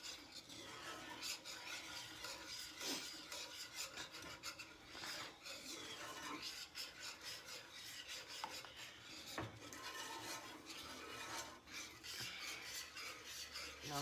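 A whisk scraping and stirring gravy in a skillet on lowered heat for deer steaks, continuous rhythmic metallic rasping and rubbing, close but quiet, without talk.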